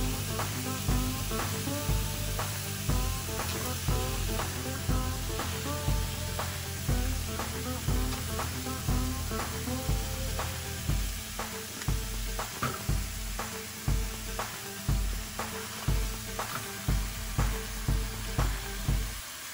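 Chorizo sizzles and fries in a pan, a steady close crackle with frequent sharp clicks and stirring knocks running throughout, no voices.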